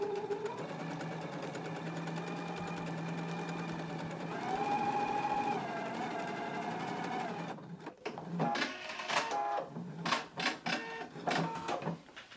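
Close sewing machine running continuous stay stitching along the upper edges of jacket pattern pieces, a steady whirring drone for several seconds, then broken into short start-stop bursts with clicks and handling noise.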